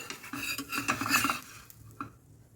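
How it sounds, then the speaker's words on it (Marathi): Corn (maize) parathas being roasted brown on a pan, heard as scraping and clinking of a spatula against the metal with light handling noise, a few close taps, then quieter near the end. "बाकीचे पराठे पण मी मस्त ब्राऊन असे भाजून घेत आहे"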